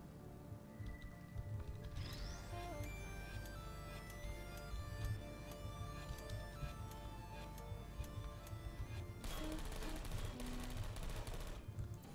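Turret fire in Portal 2: rapid rattling bursts from automated turrets over a busy, ringing game soundscape, with no voices.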